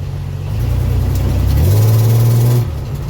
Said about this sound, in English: Still not convinced the transmission's changing gears.